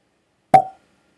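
A composite cork of sawdust and glue pops once from a bottle of Glen Scotia 10 Campbeltown single malt Scotch whisky, a single short close plop in silence.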